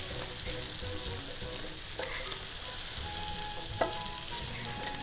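Pineapple pieces caramelizing in a pan for Hawaiian meatballs, a soft continuous sizzle and crackle of frying with a faint clink near the end, quiet and steady, no talking.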